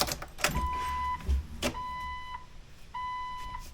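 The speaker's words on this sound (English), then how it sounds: "check the horn." A 1997–2006 Jeep Wrangler TJ horn is tested in short bursts, three steady tonal blasts separated by pauses, with clunks and rustling near the start and no talking.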